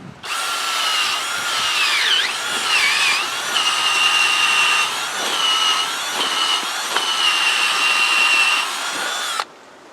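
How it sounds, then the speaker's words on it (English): A loud power drill running a Work Pro auger bit whines steadily for several seconds, pitch shifting slightly as it bites in, then cuts off abruptly. "what I use is this auger, Work Pro auger that I run on my drill"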